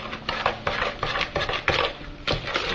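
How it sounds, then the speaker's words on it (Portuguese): Sugar and margarine being mixed by hand in a bowl for a cake, a brisk series of scraping, knocking strokes close by. "Misturou o açúcar com a margarina."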